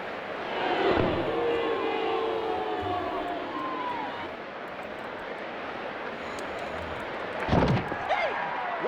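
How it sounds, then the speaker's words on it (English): A large wrestling arena crowd roars and cheers in a video game, a dense, continuous din with a few sharp slams. Commentators talk over it. "Listen to this crowd."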